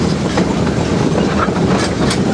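West Side Lumber Shay #9, a steam locomotive on the Georgetown Loop Railroad, rolling around a sharp curve with a continuous close rumble and rhythmic clickety-clack of wheels on rail.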